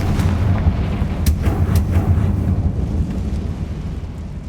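Bombarda blasting spell explosion in the Hogwarts Legacy video game, a heavy booming rumble with a few sharp cracks, loud and sustained before easing off.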